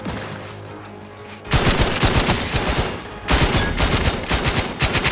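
Sustained gunfire from The Outer Worlds 2 game combat: after a quieter opening, dense rapid bursts of automatic shots hammer on loudly, pause briefly, then resume in another heavy volley.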